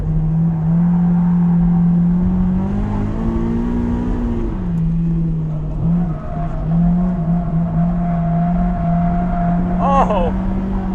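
A Honda S2000 AP1 drives hard on a track, its engine holding a steady buzzing drone that rises and dips with throttle, ending with a short tyre squeal, loud and close.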